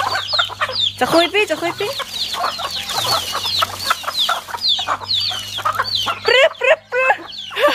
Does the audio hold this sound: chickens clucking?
yes